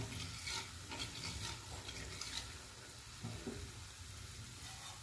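Gulab jamun frying in hot oil while the oil is swirled in circles, giving a steady, dense sizzle that stays fairly loud and even throughout with no talking.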